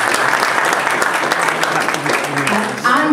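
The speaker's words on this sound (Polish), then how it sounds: "Wielkie brawa." Sustained, dense applause from a crowd at a PSL Polish Coalition regional election convention in Olsztyn, loud and steady throughout, with a voice faintly under it near the end.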